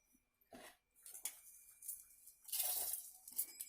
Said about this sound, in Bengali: আতপ চালটা আগে আমি মিক্সির জারের মধ্যে নিয়ে নিচ্ছি।